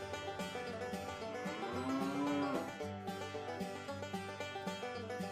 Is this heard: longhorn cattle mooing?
yes